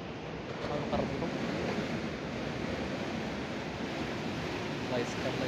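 Sea surf rolls onto the shore during shore fishing, a steady broadband wash of waves and wind, continuous and fairly loud throughout.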